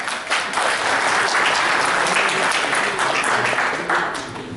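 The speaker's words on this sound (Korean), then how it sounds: "여러분, 큰 박수로 환영합니다." Audience applause welcoming a presenter at a 2016 PC case product launch event, a dense burst of clapping from a crowd lasting several seconds before fading.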